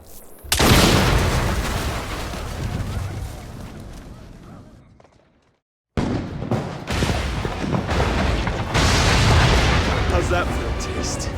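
In Assassin's Creed Syndicate, a shot sets off a primed charge. A loud, heavy explosion booms and rumbles, dies away to near silence, and then a second long roaring blast of debris and rumble follows. A voice speaks briefly over it.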